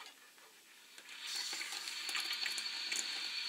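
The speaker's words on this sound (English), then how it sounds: "See, water is actually coming out the top there." Water hisses and sprays steadily from a toilet cistern tap as it is turned on, a faint trickle quickly rising into a continuous close-up leak with small splashes and drips.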